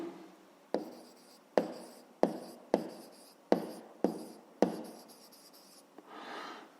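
A pen writes a math solution on paper in a quiet room, with a series of sharp, evenly spaced strokes and taps, closing in a softer scratch, close and clear with no talk.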